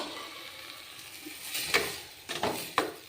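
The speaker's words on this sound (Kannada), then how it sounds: "ಮಿಕ್ಸ್ ಮಾಡ್ಕೋಣ" Methi dal is stirred in a pot, with faint scraping strokes and a few soft knocks against the metal near the end, heard alone with no voices.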